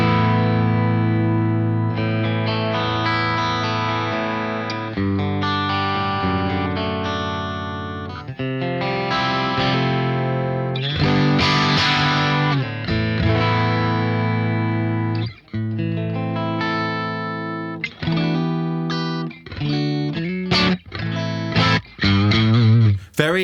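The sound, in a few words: VOLA OZ V3 MC electric guitar played on position 2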